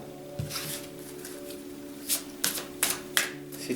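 Tarot cards are shuffled in short bursts, a soft riffle followed by several crisp, rapid flicks of card edges close by, with no talking.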